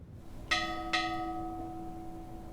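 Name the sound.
memorial bell rung signaling end of watch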